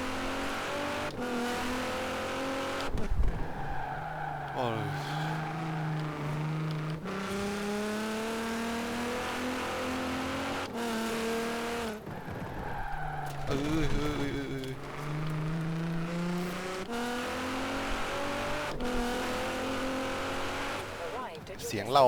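In Forza Horizon 4, a tuned Nissan GT-R R35 engine roars as it climbs through the gears, its pitch rising and then dropping at each shift, with tire noise and someone talking excitedly over it.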